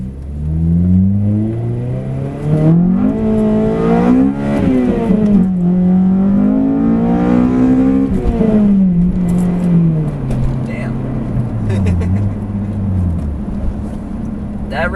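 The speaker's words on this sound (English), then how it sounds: "That revved out to like 86." Car engine revving up against its high limiter during a launch control test after a FlashPro tune, repeated rising and falling rev sweeps holding near the cutoff, loud and close, with a voice briefly reacting.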